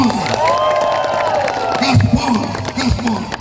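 A crowd of volunteers at a campaign rally in Lampung for a vice-presidential candidate cheers and shouts loudly throughout, with scattered applause and voices mixed into the steady din.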